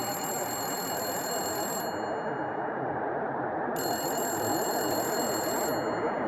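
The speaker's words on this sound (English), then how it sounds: "inside that house, a phone starts ringing." A telephone rings inside a house in a scene from the film Amityville Vanishing Point, its bell tone sounding in two separate bursts over a steady background hiss.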